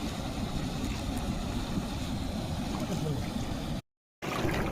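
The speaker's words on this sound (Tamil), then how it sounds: "அவ்வளோ ஸ்பீடாக போகுது தண்ணி" Fast-flowing river water rushing past as a steady, dense broadband roar, nearby and constant, briefly cut off by a short silent gap near the end before resuming.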